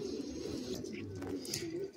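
A male Madrasi pigeon coos steadily in a low, throaty rumble close by, the soft murmuring continuous throughout.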